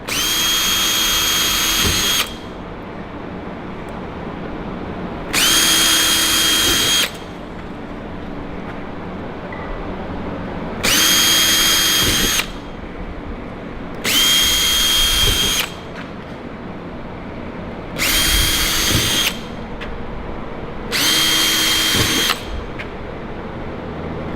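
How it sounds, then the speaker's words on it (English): Six loud bursts of a drill bit drilling out punched holes, each about two seconds, spaced by quieter pauses with a steady background hum, close to the listener. "Now you're just going to drill out the holes you just punched."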